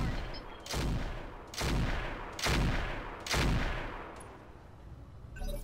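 A volley of mech weapons firing in the Roguetech battle game: four heavy, rumbling blasts in a steady rhythm, each roaring for a moment, then a quieter tail.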